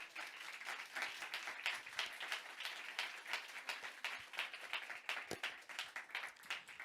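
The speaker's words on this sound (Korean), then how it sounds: "우리 한 번 더 하나님께 박수 드리길 원합니다." Church congregation applauding during a Sunday worship service, a steady round of many hands clapping at moderate distance, fairly even in loudness, with no speech over it.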